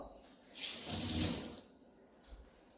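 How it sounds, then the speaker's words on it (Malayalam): Kudampuli (Malabar tamarind) rinsed under a running kitchen tap, a steady splashing water stream swelling for about a second then easing off, fairly close and with no talk. "ഞാൻ കഴുകിയിട്ട് ഇപ്പം അതിനകത്തോട്ട് കൊടുക്കാൻ പോവാ"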